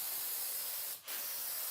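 A spray gun applies polyurethane over wood stain in a continuous close airy hiss that dips briefly near the middle, then resumes at the same level.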